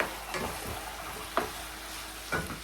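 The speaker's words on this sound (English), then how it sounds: "We'll give a little stir." Ackee being stirred in a pot, with a few soft scraping strokes over a faint steady sizzle, quiet and close.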